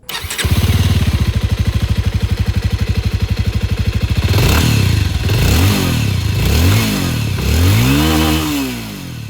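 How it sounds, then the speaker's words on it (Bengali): A 2026 Bajaj Avenger 220 Street motorcycle idles with a steady, rapid thumping exhaust beat, then is revved hard three times, each throaty roar rising and falling back, loud and close. "এক্সস্ট সাউন্ডটা আপনারা একবার শুনে নিন"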